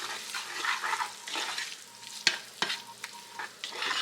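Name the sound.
stirring chili-spiced leftover meatloaf mixture in a pan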